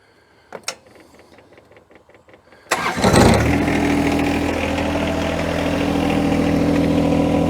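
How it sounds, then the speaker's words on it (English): A John Deere 1025R compact tractor cranks and its engine catches, after a few quiet clicks and a brief mechanical clatter, then settles into a loud, steady idle close by. "So I'm going to start it up, get the downriggers down, raise it up"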